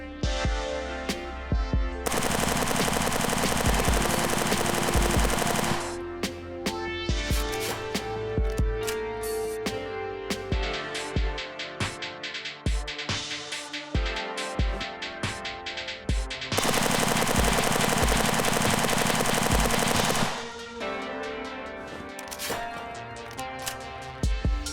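A full-auto Rattler gun in the shooter game Zero Hour: Operation Black Dawn fires loud, rapid bursts of a few seconds each, separated by short gaps of quieter single shots and mechanical clicks.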